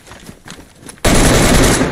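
Gunfire in the survival video game DayZ: faint scattered activity, then a sudden loud, sustained burst of dense firing that fills the second half at close range.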